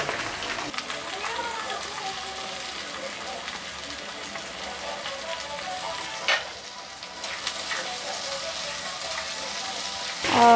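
Onions go into a pan of hot oil after garlic and chillies for a chicken curry. A loud, continuous sizzle and crackle runs throughout, with a few stirring clatters.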